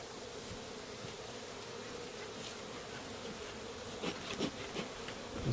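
Honey bees buzz steadily around an open beehive during a hive inspection, a dense continuous drone with a few louder passes of individual bees close to the microphone.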